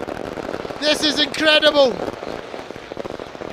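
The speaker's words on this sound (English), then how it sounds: "Look at these fireworks going off here." Fireworks crackle and pop through a cricket final celebration at North Nazimabad, Karachi, after the Pakistani Tape Ball Premier League win, the bursts running steadily under an excited commentator's voice.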